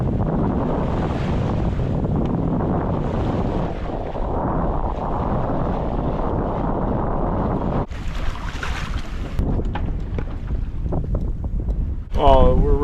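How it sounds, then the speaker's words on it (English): Steady, heavy wind rushes over the microphone aboard a sailboat moving along the shore of Lunenburg Bay, mixed with water wash, with a brief change in texture near the end. "we're right along the shore here, so we get a little bit of fluky wind, but it's nice sailing"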